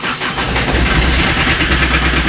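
Starter cranking an Alfa Romeo MiTo diesel with glow-plug preheating, four cylinders turning over steadily with a loud, continuous churning drone and no voices.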